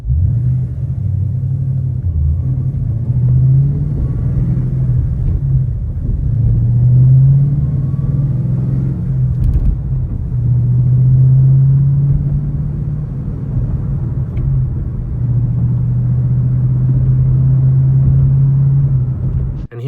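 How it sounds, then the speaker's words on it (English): A 2014 Ford Mustang GT with a modified exhaust pulls away from a stop, its deep rumbling engine note climbing in repeated rising sweeps through the gears, loud and close with no talk. "here's an acceleration out of a stop sign"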